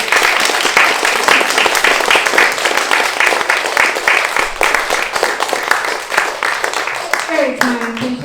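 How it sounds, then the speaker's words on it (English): An audience applauds Verna and Gillian at an autumn reception, dense sustained clapping that fills the room for several seconds before tapering off as a voice starts to speak. "I think we all should give a round of applause to Verna and Gillian"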